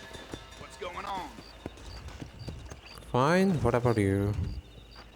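Hooves of a walking horse clop softly at the start, then a person speaks loudly over them in a short exchange.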